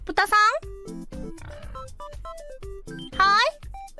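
A high voice imitates a pig's oink with two loud squealing snorts, one at the start and one near the end, between stretches of melodic background music.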